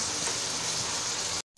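Onions sizzle steadily in a hot pan as they brown for a dhaba-style mutton karahi, a dense, even hiss that carries on unbroken before cutting off abruptly at the end.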